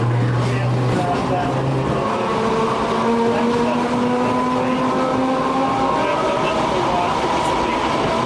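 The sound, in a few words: electric railroad streetcar riding on track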